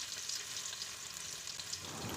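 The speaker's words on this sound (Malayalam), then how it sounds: "നമുക്ക് ബാക്കിയുള്ള സവാളയും ക്യാരറ്റും ഒക്കെ ഇട്ട് കൊടുത്ത് വഴറ്റിയെടുക്കാം" Garlic, onion and carrot sauté in oil in a pan: a soft, even sizzle that runs unbroken and fairly quiet throughout, with no voices over it.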